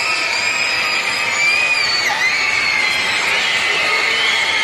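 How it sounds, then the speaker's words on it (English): A basketball crowd at a school game roars with sustained, loud cheering, many excited children's high voices shrieking together in a dense, continuous wall of sound. "Crowd got really vocal there at the prospect of free cheeseburgers."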